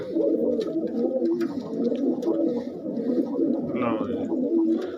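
Pigeons cooing close by, overlapping low throaty coos repeating in a steady rolling rhythm, with a few light clicks and a brief chirpy flutter mixed in.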